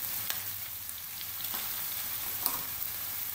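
A spoonful of ginger garlic paste fries in a pan for keema kachori filling, giving a continuous close sizzle with light crackles and a couple of faint utensil clicks.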